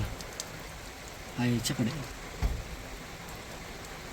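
Rain falls steadily on a parked car and is heard from inside as a constant soft hiss, with people talking over it and a brief thump midway.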